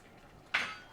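A single loud clatter of a dish or utensil set into a kitchen dishwasher rack, sharp and close, rising out of quiet room tone and ringing briefly.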